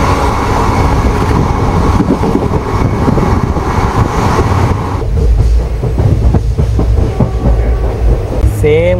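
A train runs along a railway track beside a toll gate, a loud, close rumble with rhythmic clickety-clack of wheels over rail joints, rolling steadily throughout with a brief squeal near the end.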